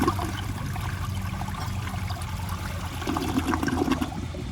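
A 1977 Universal-Rundle Citation toilet flushes with a loud, close rush of water that churns steadily for several seconds and swells briefly near the end as the bowl siphons out.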